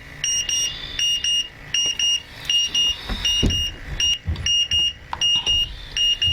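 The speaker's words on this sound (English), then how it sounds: "We have an A2 alarm." A gas detector gives its A2 alarm, a rapid repeating double-tone beep pulsing steadily and loud nearby, with faint rustling and handling noises beneath.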